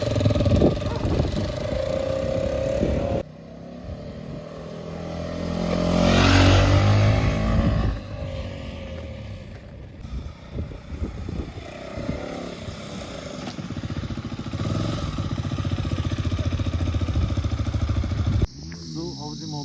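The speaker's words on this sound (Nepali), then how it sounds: "बाइक चलाउन लागेको छु।" A motorcycle engine revs and idles up close, its loudness rising and falling, with a voice heard over it through much of the stretch.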